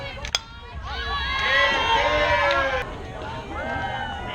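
Crowd at a youth 14U softball game, Lady Hawks against Vipers, rises into sustained cheering and shouting with children's voices, swelling to a peak then easing, with a sharp knock near the start.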